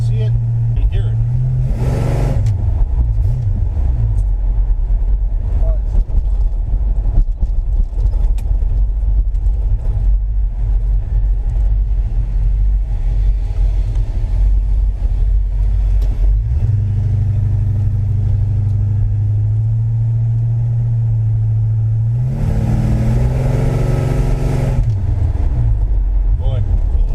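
A 1957 Chevy Bel Air rumbles steadily as it drives around the block, its deep engine note loud and close throughout. The revs climb in a couple of places, shifting the pitch upward, and then settle back into a steady cruise.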